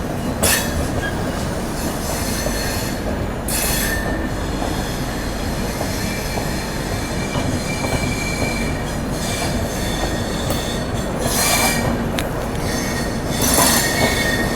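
A moving 12552 AC superfast express running from Assam to Bengaluru, with a steady broadband rumble of coaches and wheels on rails throughout, brief bright squeals and clatter surging now and then, no voices.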